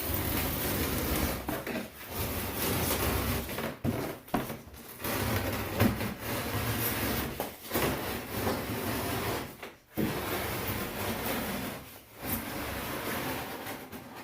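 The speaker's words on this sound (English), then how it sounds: "we'll trace the bottom of it with the drywall saw. Just following right along this edge." A drywall saw rasps along the edge of wood while cutting ribs for a kayak cockpit, a steady, close scraping stroke that runs nearly continuously with a few short pauses.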